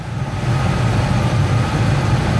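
A car engine idles with a plugged EGR valve, a steady low rumble running evenly and fairly loud throughout, with no change in pitch or speed.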